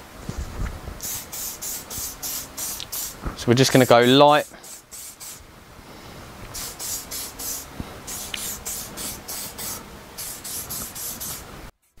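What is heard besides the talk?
spray lacquer can spraying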